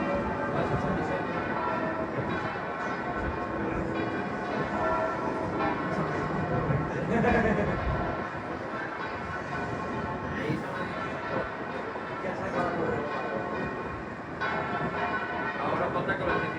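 Church bells swinging and ringing at the Santos Juanes church in a peal for the Virgen de los Desamparados, a dense, continuous clangor of overlapping strikes filling the whole stretch at steady loudness.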